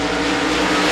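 Modified race cars roar loudly and continuously as they accelerate together at the green flag start at Devils Bowl Speedway, a dense, close engine drone.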